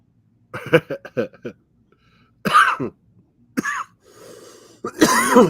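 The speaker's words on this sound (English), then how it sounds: "Jeez, I'm coughing." Several harsh coughs come in bursts, a quick run of short hacks followed by heavier, throaty coughs, close and loud.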